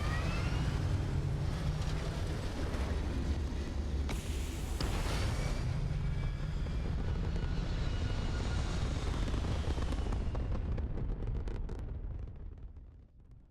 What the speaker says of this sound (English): Liftoff looks good. All systems go.